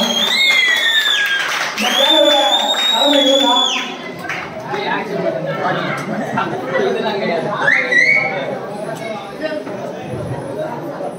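Audience clapping at a crowded subscriber celebration function, scattered applause under lively crowd chatter and voices, with music-like tones early on before settling into mixed clapping and talk.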